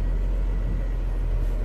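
A 2007 Kenworth W900 mixer truck with an Allison automatic transmission idles and drops into gear, giving a loud, steady low engine rumble up close with no distinct shift event standing out.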